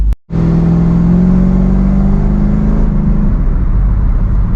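A Dodge Dakota R/T pickup truck engine, its throttle valve set slightly loose, is revved hard and held high as a loud, steady, close roar for several seconds, then eases off slightly near the end.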